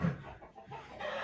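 A brief burst of hens clucking close by in a barn, a low murmuring flock sound that swells again at the end.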